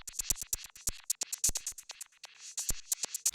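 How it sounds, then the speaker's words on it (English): A breakbeat runs through an auto filter whose shaper modulation is slowed to a 1/3 rate, giving an uneven rhythmic chop of bright, snappy hits with gaps between. The loop plays on its own, with no talking. "I set it to 1/3 to give a nice rhythmic chop"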